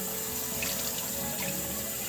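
Tap water runs steadily into a sink for face washing, a continuous close splashing stream with no talk over it.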